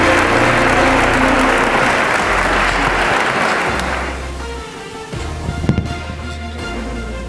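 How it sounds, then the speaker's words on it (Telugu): An audience claps loudly to welcome a singing contestant onto the stage at a singing competition. Dense, steady applause fills the first few seconds, then thins out and fades with a few scattered claps near the end. "గట్టి చప్పట్లతోటి స్వరాజ్ని ఆహ్వానిస్తున్నాం"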